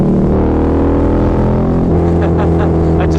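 A Harley-Davidson V-Rod motorcycle engine drones loudly and steadily close by while riding below 5,000 RPM, with a rough low rumble throughout and faint speech mixed in.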